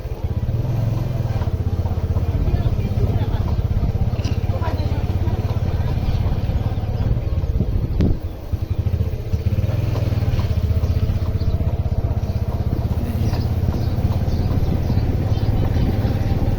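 A motorbike rides through a village of mud houses, its engine droning loud and steady the whole time with road rattle and a brief dip partway through; no clear words.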